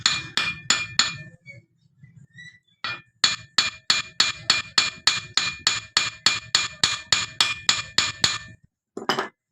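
Light hammer taps seat a bearing into the wheel of a donkey pump, a metallic clinking series of about twenty quick, evenly spaced strikes with a brief pause, close and alone.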